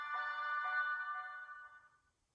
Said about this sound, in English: So it plays a little, you know, shutdown and startup tone.